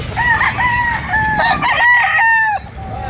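A rooster at a chicken market crows loudly and close by, one long drawn-out call with a steady ringing tone, over faint market background.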